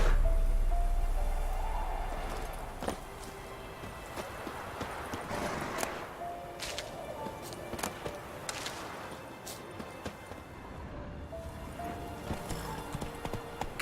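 Horse hooves clip-clopping in a steady walking rhythm in The Witcher 3 video game, close and continuous over a soft ambient game background.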